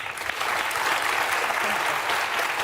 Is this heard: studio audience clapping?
yes